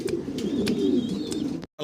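A pair of large fancy Andalusian-coloured pigeons gives soft, rolling coos up close, a brief burst of throaty murmuring before it cuts off.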